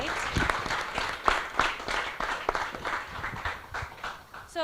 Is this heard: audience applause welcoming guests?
yes